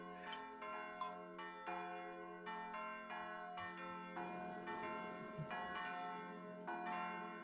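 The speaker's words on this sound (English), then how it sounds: "The waiting bells of Advent ring." Church bells peal steadily and close, a continuous layered ringing of overlapping strikes that fills the whole stretch, with no voices over it.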